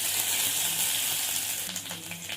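Chopped onion sizzles in hot mustard oil with cumin seeds and bay leaf, a loud continuous frying hiss close up with faint stirring near the end.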